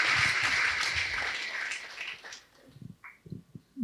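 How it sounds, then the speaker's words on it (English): Applause from a live audience at a talk, a burst of clapping that fades out after about two seconds, followed by a short voice speaking. "Applause for that."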